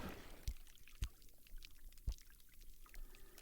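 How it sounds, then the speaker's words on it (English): Fingers snapped underwater and picked up by a hydrophone, giving a few faint, sharp clicks spaced irregularly over a quiet, hissy underwater background. "I sync the audio by snapping my fingers under the water,"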